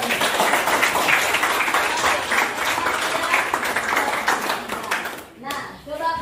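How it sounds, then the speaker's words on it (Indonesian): A classroom of students claps for everyone, a dense, steady burst of many hands close by that fades out near the end as a voice begins. "kasih tepuk tangan untuk semuanya"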